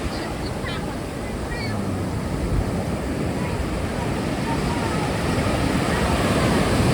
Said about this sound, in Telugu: This is Chennai తిరువన్మయి beach.